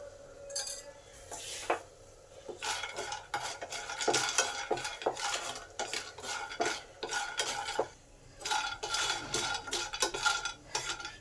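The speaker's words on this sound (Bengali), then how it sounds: "বড়িগুলো যখন হালকা লাল লাল হয়ে আসবে ঠিক তখনই তেল যোগ করব, ফলে অল্প তেলে বড়িগুলো ভালো করে ভাজা হবে।" Lentil dumplings (bori) frying in a little oil in a pan while a utensil stirs and scrapes them, giving repeated clinking and scraping strokes over a light sizzle, with short pauses between bursts.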